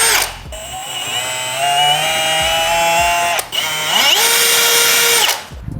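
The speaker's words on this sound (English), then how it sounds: "now we can drill our hole" A power drill bores a hole in a car's side skirt while fitting an aero kit to an FL5 Type R, whining steadily in two long bursts separated by a brief pause, with the motor pitch shifting as it bites.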